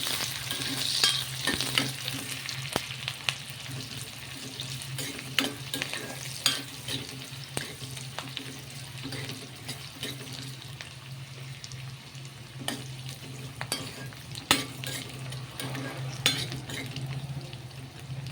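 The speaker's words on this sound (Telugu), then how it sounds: "ఉల్లిగడ్డ ఎర్రగా కానిద్దామండి" Onion sizzles steadily in a hot pan for mutton gongura curry, a continuous frying hiss punctuated by frequent stirring scrapes and light clinks of a utensil against the pan, close and fairly loud without speech.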